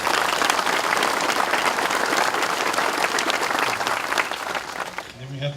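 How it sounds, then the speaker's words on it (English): A crowd at an Oklahoma Highway Patrol memorial monument dedication applauds in a full, continuous wash of clapping that holds steady, then thins out at the end. "Let's give them a round of applause."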